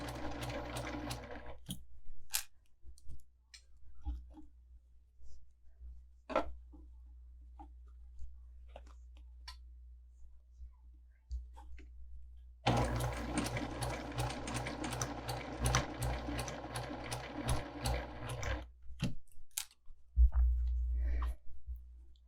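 Domestic sewing machine stitching quilt block fabric in two runs, first burst in the opening seconds, then a steady longer run later, with quiet handling pauses between and soft rustling of cloth.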